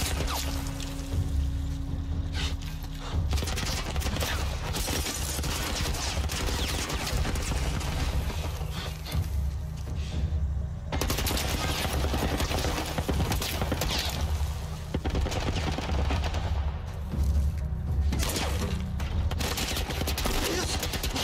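Enemy gunfire in The Last of Us Part 1, a dense, continuous clatter of rapid shots and bursts running the whole time at steady loudness, with no talk.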